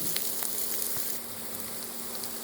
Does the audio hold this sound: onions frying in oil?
yes